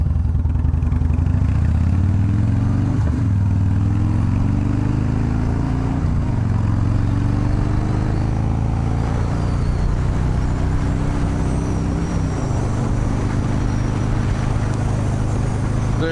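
A car sliding sideways near a car show at Hart Park, its engine droning steadily and loudly throughout with shifting tones as it swings around, no voices over it.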